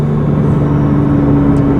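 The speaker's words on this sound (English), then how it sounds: "That intake sounds like you're moving." Steady car engine intake noise, a low constant drone, close and continuous, like a vehicle cruising under light throttle.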